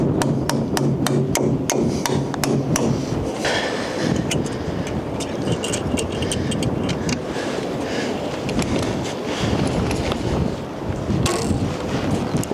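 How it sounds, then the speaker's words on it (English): A hammer drives a nail into wood on a windy job site, a quick run of sharp, evenly spaced strikes at the start, then wind buffeting and scattered knocks. "just gonna hit a nail in there so we can flick a line."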